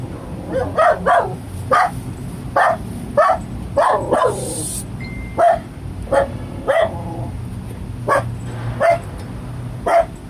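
A dog barks repeatedly at a steady pace, close and loud, with a few whimpering yips mixed in over a low background hum.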